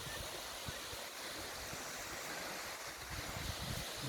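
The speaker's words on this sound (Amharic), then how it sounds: "ክቡራትና ክቡራት ተመልካቾቻችን እንግዲህ ይህን ፏፏቴ እያያችሁ ነው።" The Finchiftu waterfall in Wollo, Ethiopia, roars as a steady, broad rush of falling water, continuous and full-bodied throughout with no voices.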